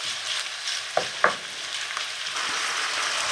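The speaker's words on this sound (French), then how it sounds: "on va ajouter nos morceaux de porc qu'on a donc taillés en petits morceaux. Et on va laisser ça cuire 5-6 minutes." Small pieces of pork sizzling and frying in a pan for a caramel pork dish, a steady bright hiss with a few sharp crackles and stirring clicks, close and alone.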